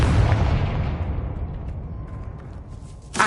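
The Confringo fire spell in Hogwarts Legacy bursts in a loud, close explosion whose deep rumbling boom decays slowly over a few seconds, ending with a sharp fresh pop at the end.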